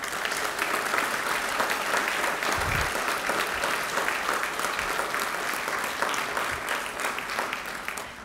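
A breakfast crowd at a school district retirement event gives retirees a long round of applause, dense steady clapping throughout, with a few low thumps mixed in.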